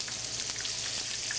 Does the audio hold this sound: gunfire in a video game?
no